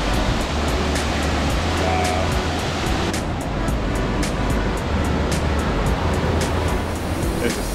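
Steady, loud rush of three waterfalls merging into one at Mount Rainier National Park, roaring continuously, with a low rumble underneath and no pauses.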